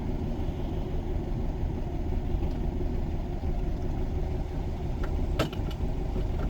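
A 1979 VW Brasilia with its air-cooled Fusca engine idles in a steady, low mid-pitched rumble, close and continuous, with a few faint clicks near the end.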